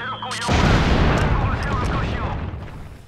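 A loud, close bomb blast in the video game Mercenaries: Playground of Destruction, a heavy booming roar that swells and then rumbles away over a few seconds, preceded by a brief bit of game noise.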